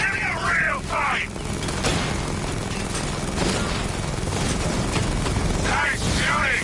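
Gunfire in the Batman Arkham Knight video game: a dense, continuous barrage of shots over a heavy rumbling roar, with brief voice-like cries near the start and end.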